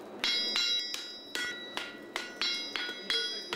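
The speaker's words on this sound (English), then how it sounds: "He's now forging the outside branch" Hammer strikes ring on a heavy horse show hind shoe being hand-forged in two halves, the outside branch worked on the anvil: about eight sharp metallic blows in a steady rhythm, close and clear with bright ringing overtones.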